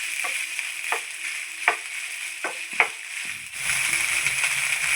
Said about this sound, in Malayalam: ചൂടായ ഓയിലിലേക്ക് നമ്മൾ പിഴിഞ്ഞ് വെച്ച സോയ ചങ്ക്സ് ചേർത്ത് കൊടുക്കാം.